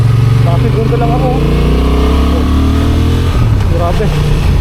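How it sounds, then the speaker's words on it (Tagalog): A Honda Transalp 750 motorcycle engine drones loud and close while riding on a steep road, its pitch rising and dropping with throttle under heavy rumble, with a rider talking over it. "Ang lakas ng motor na to."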